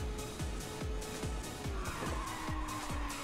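Race cars speed and skid in the Ridge Racer 2 video game, with steady engine roar, rapid repeated gear-shift or rev sweeps, and squealing tires filling the whole passage at a loud, constant level without pause.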